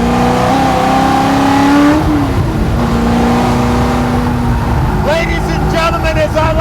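A small-block Ford GT40 race car engine revs loudly and steadily, its pitch climbing and settling, with a voice talking faintly underneath.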